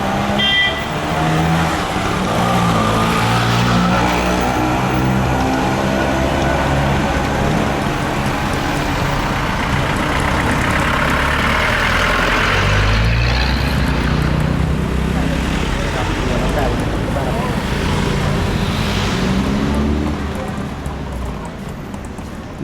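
Street traffic through a busy market in Manali, India, vehicle engines passing nearby with a continuous rumble that rises and fades, while someone talks over it.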